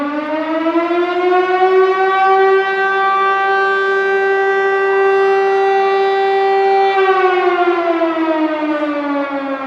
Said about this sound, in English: Well, and seven sirens is a fire.